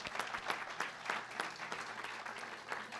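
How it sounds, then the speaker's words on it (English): An audience at a K-State track and field introductory press conference gives a round of applause, a brief steady patter of many hands clapping with no talking over it. "if we could give her a round of applause."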